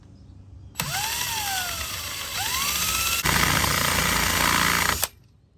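A loud power drill grinds continuously through metal on a Sprinter van for about four seconds, its pitch wavering then shifting to a harsher whine as it bites, with no talking.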